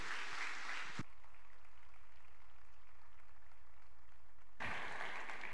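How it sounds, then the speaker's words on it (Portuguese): A church congregation bursts into applause to welcome an apostle, a dense wash of clapping that cuts off abruptly, leaves a low hum for a few seconds, then surges back just as loud. "Vamos receber o nosso apóstolo, aplaudindo ao Senhor."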